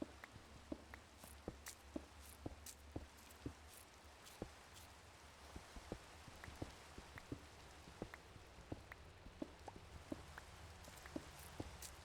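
Light rain ambience in a video game plains biome, scattered soft droplet taps over a steady faint background hiss, quiet and continuous with no talking.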